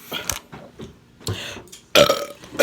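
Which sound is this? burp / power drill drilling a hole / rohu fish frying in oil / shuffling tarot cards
burp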